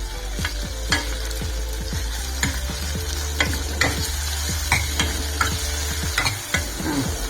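Mango and tomato sauté in a pan for a no-onion, no-garlic mango kara kuzhambu, giving a steady close sizzle broken by sharp scrapes and taps of a spoon stirring roughly every second, with no talking.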